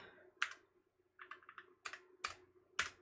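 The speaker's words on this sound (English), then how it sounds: "I can't type" Someone types on a computer keyboard in a quiet room, a few sharp isolated key clacks mixed with quicker clusters of keystrokes, close and clear over a faint hum.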